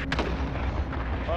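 Gunfire in Call of Duty on the Caldera map, a dense burst of rapid shots that is loud and close, with a voice briefly under it.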